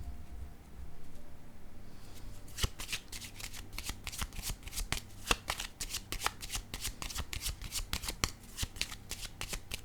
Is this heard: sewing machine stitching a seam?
no